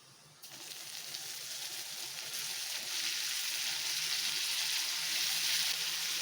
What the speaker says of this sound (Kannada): ಆಲೂಗಡ್ಡೆ ಸ್ವಲ್ಪ ಫ್ರೈ ಮಾಡ್ಕೊಳ್ಳೋಣ